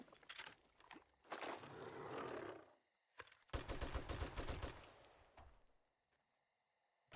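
Gunfire in 7 Days to Die comes as several sharp shots and short rattling bursts with gaps of quiet, fairly loud and close, then fades to near silence.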